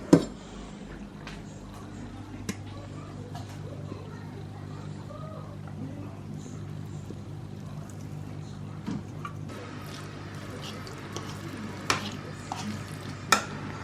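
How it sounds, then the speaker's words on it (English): Cooked pasta being stirred into a baked feta sauce in a baking dish, giving soft, continuous wet squishing and stirring under a low steady background hum, with a few light taps against the dish. "I'm just going to pour the pasta into that dish and then mix it all around so that it's all coated nicely"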